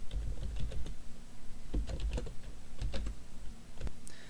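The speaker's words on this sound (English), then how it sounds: "we'll start off by typing OfficeMax into the search bar" Someone types on a computer keyboard, a quick run of close, crisp key clicks in irregular bursts over a steady low hum, with no talking.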